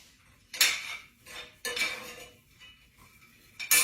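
Pecans are stirred in a metal pan, with three separate bursts of utensil scraping and clinking against the pan and short quiet gaps between them.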